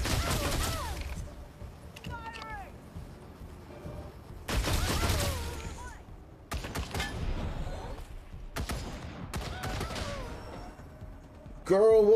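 Bursts of gunfire from a Wasteland 3 firefight, clustered in loud volleys with gaps between, mixed with voices and mechanical game effects.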